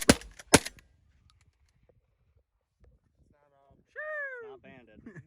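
Two loud, close shotgun blasts at pigeons fire in quick succession, followed by near silence with faint rustling, and then a person shouts briefly.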